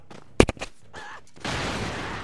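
A grenade explosion in the video game Broforce: a sharp loud blast with a quick echoing crack, followed by a short gap and then a sustained noisy rumble of debris, with a voice briefly heard around it.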